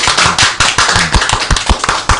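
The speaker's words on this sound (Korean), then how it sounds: "우리 여기서 박수 한번 치고 갑시다." A small group in a studio claps in a quick, uneven burst of sharp, close hand claps lasting a couple of seconds, with no talking over it.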